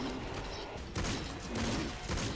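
Rapid gunfire bursts from the hunting video game Cabela's Dangerous Hunts 2013 play at low level, with a few louder surges as shots cluster, heard alone without talk.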